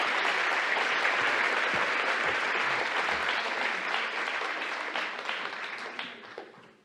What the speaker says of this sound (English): he's clapping for you before you sat down